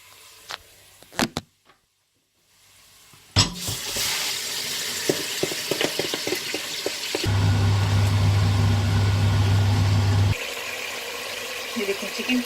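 Chicken hitting hot oil in a pan for biryani with chopped mint on top: a sudden loud sizzle that swells into steady frying and stirring, preceded by brief clinks, with a voice over it.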